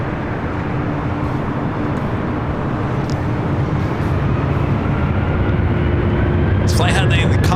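A Boeing 767-300 rolls down runway 24R at LAX, producing a steady, loud broadband jet roar that holds evenly throughout, with faint higher tones surfacing near the end.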